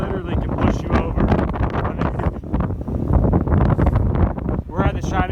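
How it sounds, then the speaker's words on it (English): Strong wind buffets the microphone on an exposed mountain trail near the Shining Rock Wilderness, a loud, continuous roar and rumble with gusty surges, heard alongside a person talking throughout. "the wind literally can push you over."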